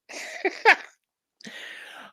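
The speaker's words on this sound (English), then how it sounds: "Whoa, that made me sneeze." One sharp, close sneeze with a quick intake and explosive burst, followed after a pause by a breathy exhale.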